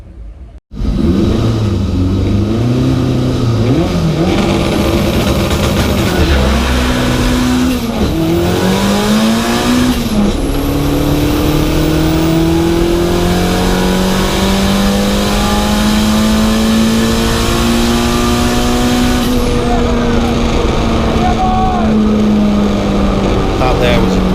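A Volkswagen drag car launches and accelerates hard down the Santa Pod drag strip, engine roaring loudly and continuously as it climbs through gears, with pitch rising and dropping at each shift.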